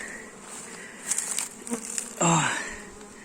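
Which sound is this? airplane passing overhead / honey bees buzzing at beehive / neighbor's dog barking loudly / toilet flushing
honey bees buzzing at beehive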